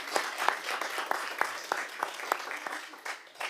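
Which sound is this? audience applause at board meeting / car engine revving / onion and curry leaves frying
audience applause at board meeting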